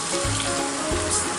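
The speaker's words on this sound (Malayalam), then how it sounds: "കുറച്ച് തിളച്ച വെള്ളം ഒഴിച്ച് വെക്കാം ഇതിലേക്ക്" Boiling water poured into a pan of chicken bhuna masala, a close, steady sizzling and splashing hiss that swells in two short surges with no voices.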